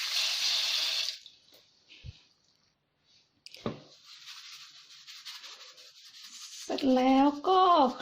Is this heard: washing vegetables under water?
yes